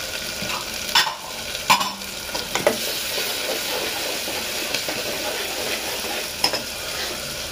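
Onion frying in a pan for paneer pulao, a steady loud sizzle with a few sharp scrapes and knocks of a stirring spoon.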